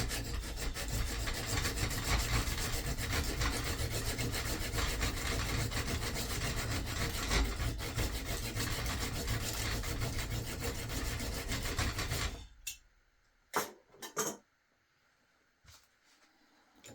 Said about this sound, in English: I used a small hacksaw to cut a groove where I wanted it to break